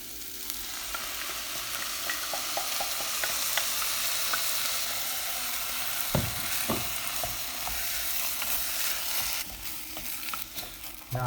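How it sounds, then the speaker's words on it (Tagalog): Rice is stirred and fried in a pan for chicken arroz caldo, a continuous sizzle with scattered scraping clicks of a spoon against the pan and a few sharper knocks. "At ngayon, ihalo na natin yung ating 1 cup ng rice."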